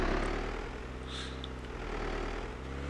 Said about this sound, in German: Kommt der Heli.